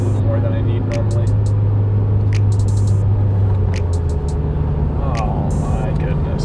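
A 2015-2020 Subaru WRX with a Cobb Accessport stage 1 tune, engine droning from inside the cabin with rising and falling revs during gear changes, steady and loud, with brief clicks over the top.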